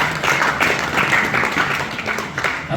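A church congregation claps hands together for God, a dense, steady round of applause from many people filling the room throughout.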